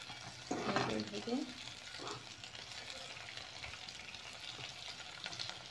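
Onion and green chillies hit hot oil with a loud burst of frying and stirring, then settle into a quieter, continuous sizzle.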